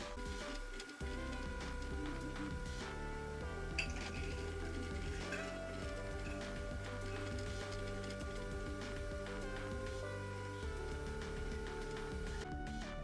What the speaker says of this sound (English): And now we just have to get printing.